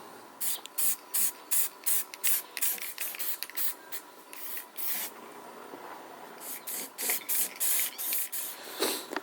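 Primer hisses from a spray can in a run of short bursts onto a Yamaha TDM 850 motorcycle swingarm, each burst close and loud with brief pauses between them.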